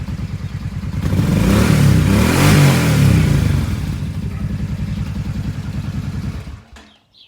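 A Kawasaki KFX700 ATV engine runs after a head gasket replacement, close and loud, with a steady throbbing idle that rises into a brief rev and settles back before cutting off near the end.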